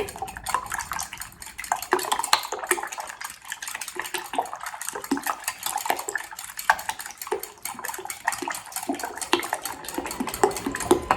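Ingredients mixed in a bowl for a green chile casserole, with busy scraping, clinking and wet stirring taps of a utensil against the bowl, near and continuous, no voices.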